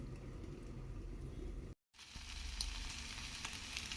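Ivy gourd fries in a pan with a soft, steady sizzle and crackle that cuts out for a moment, then resumes, fairly quiet and close, with no talking.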